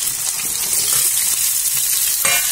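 Cut potatoes go into a pan of frying onions, raising a close, steady sizzle broken by scraping and stirring, with a sharper burst of hissing near the end; no one speaks.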